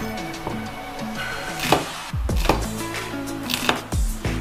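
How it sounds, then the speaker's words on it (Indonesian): A knife slices chilies into large, coarse pieces on a board, several distinct chops at an uneven pace, close and moderately loud over a busy kitchen background. "Cabenya aku sengaja iris nggak halus, sengaja diiris besar-besar."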